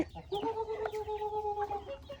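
A large chicken clucks close by, with a few short clucks and then a drawn-out, wavering call lasting over a second. No one speaks.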